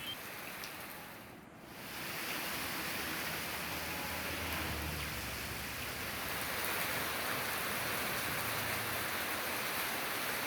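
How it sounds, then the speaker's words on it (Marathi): Monsoon rain in Devgad in the Konkan region pours down as a steady, dense hiss that holds unbroken throughout, briefly dipping near the start before returning at full, even strength. "कोकण भागातील देवगडमध्ये मान्सूनने हजेरी लावली"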